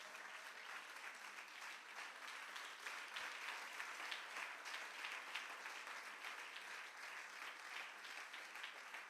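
A church congregation claps steadily and loudly in sustained applause during a Sunday praise and worship service, the dense clapping filling the room without pause.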